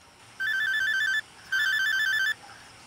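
A mobile phone ringtone sounds in a home during a drama scene, two clear bursts of a bright repeating electronic tune separated by a short pause, close and alone.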